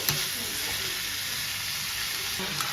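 Cluster beans frying in a pan, a steady close sizzle and hiss with a couple of faint stirring clicks.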